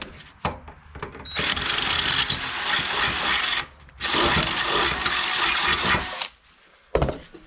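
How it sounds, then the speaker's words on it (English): A power drill whirs loudly in three bursts while modding a transfer case shifter linkage, with short pauses and a clunk between them. "put it on drill."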